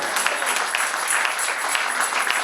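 Church congregation applauding steadily during worship, a dense even wash of many hands clapping at moderate distance with no break, and no voices rising above it.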